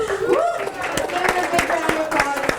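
An audience applauds volunteers at a leadership event in April 2024: steady crowd clapping with distinct individual claps, heard under a presenter's speaking voice.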